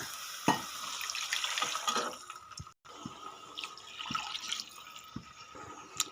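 Water goes into a pot for rava uppittu with a steady trickle and splash, broken by a short pause and a few clinks of utensils, fairly close.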